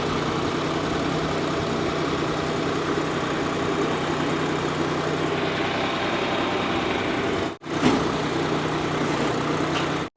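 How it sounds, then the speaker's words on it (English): A tractor engine runs at a steady low idle, a constant rumbling drone heard close by. There is a brief thump and dropout near the end. "So I'll get the tractor over here again because we can't push it over this hump."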